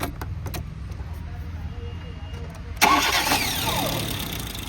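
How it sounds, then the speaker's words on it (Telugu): A 2011 Chevrolet Spark LT petrol/LPG car engine cranks and catches in one quick start, then settles into a steady idle; a few faint clicks come beforehand. "కేవలం సింగిల్ సెల్ఫ్లో వెహికల్ అనేది స్టార్ట్ అవ్వడం జరుగుతుంది"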